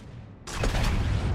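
A warship's main gun turrets fire a full salvo in the naval combat game World of Warships: quiet ambience, then a sudden loud booming blast that carries on as a thick, sustained roar.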